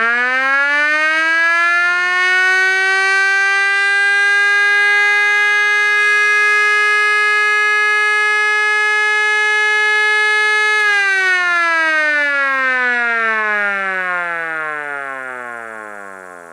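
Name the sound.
small 12-volt siren alert blast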